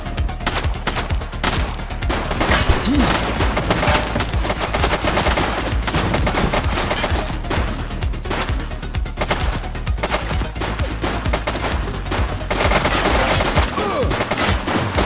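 Sustained, heavy gunfire in The Precinct police video game: dense, rapid shots run nearly continuously at close range and loud level throughout, with only occasional faint voices underneath.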